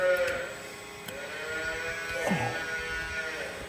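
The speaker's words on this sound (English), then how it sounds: "Sounds like a sheep in the background, but it's actually a calf." A calf bleats a few times over a steady background hum, close by and moderately loud, with a bleating cry that sounds almost like a sheep's.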